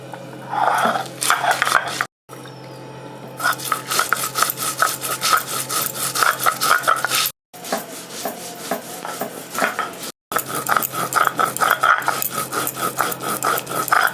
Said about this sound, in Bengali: তো এই যে ধনে বেটে নেব ধনে জিরে এই যে চারটে শুকনো লঙ্কা বেশি ঝাল দেবো না তো আমি এগুলো আবার একসাথে বেটে নেবো